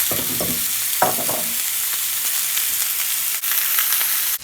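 Hamburger patties fry in a pan with a loud, steady close sizzle and spatter, a few brief scraping knocks early on, no one speaking.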